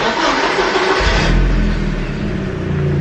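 A Porsche 944 Turbo engine cranks and catches, settling into a loud, steady idle with a deep low rumble that swells slightly toward the end.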